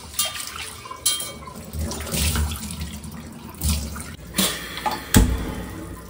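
Tap water runs and splashes intermittently as a heavy cast iron kadai is washed in a kitchen sink, with scattered scrubbing clatters and metallic knocks close by.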